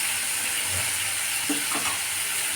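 Potato and pointed gourd stirred with ginger in a pan, a steady broadband sizzle with a couple of soft scraping stirs of the spoon, close and fairly loud, no voices.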